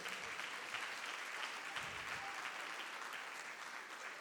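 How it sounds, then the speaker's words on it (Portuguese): A church congregation applauds at a Sunday family celebration service, steady dense clapping that holds evenly throughout without voices. "por favor, um aplauso à nova geração."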